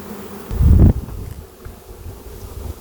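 Honey bees at a beehive colony, a brief loud burst of buzzing up close near the start, then a softer busy hum with wind rustle in the background.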